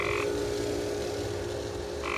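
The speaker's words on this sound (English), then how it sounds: "Look at that, another frog." Frog croaking beside a swimming pool, two short buzzing croaks at the start and end with a steady low hum in between.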